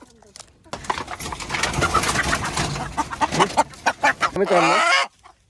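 Free-range country roosters cluck and squawk loudly at close range as they are caught, in agitated bursts mixed with someone talking over them.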